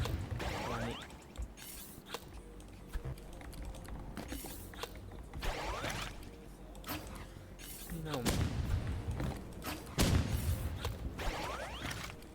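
An RPG in the Roblox game Rivals fires with a heavy blast and whoosh, followed by mechanical reloading clicks and clatter, repeated over game noise and background talk.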